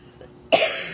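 A single sharp cough bursts out close and loud after a near-silent moment, followed by a short breathy tail.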